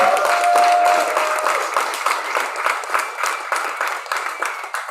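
An open mic audience claps and cheers for a performer, starting loud and full, then thinning into scattered clapping that tapers off over several seconds.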